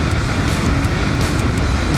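A Yamaha YBR 125 motorcycle accelerating in traffic, a continuous loud engine drone mixed with strong wind rush, heard close up from the rider's position.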